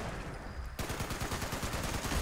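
Rapid automatic bursts from a bloodied explosive .50 cal machine gun in Fallout 76, a dense, continuous stream of heavy booming shots with explosive cracks, loud and close, without speech.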